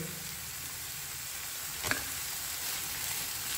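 Ginger garlic paste sizzles steadily in a pan for egg masala, a continuous frying hiss with one brief scrape of a stirring spoon midway, close and without speech.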